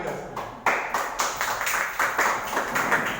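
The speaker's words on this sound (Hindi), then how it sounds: "ताली बजा सकते हैं।" A group of people claps hands at an awareness campaign event, a series of sharp, fairly close claps with a steady rhythm that builds into scattered applause for a few seconds.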